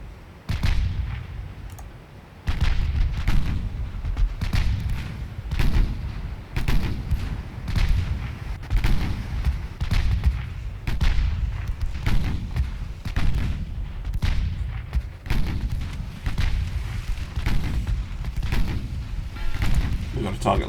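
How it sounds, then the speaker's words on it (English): Warship main guns firing in Ultimate Admiral Dreadnoughts, a long run of heavy, booming salvos in irregular bursts over rumbling naval battle noise, with a voice speaking at times. "Let's get all the guns firing."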